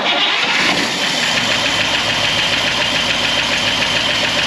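A 1964 Buick Electra 225, previously damaged in an engine fire, cranks and catches, its engine then running steadily and loudly up close with a rough, knocking idle and no talk over it.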